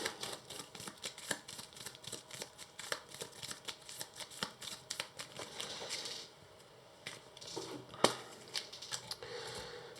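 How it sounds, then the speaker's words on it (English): Arkham Horror card game cards are riffled and shuffled in rapid crackling bursts, close and soft, with a brief pause and a sharp snap near the end. "These get shuffled here."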